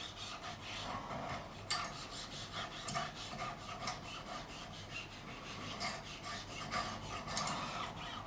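A file bevels the fret ends on a Michael Kelly Patriot guitar neck during a refret, giving repeated close rasping strokes in an uneven rhythm.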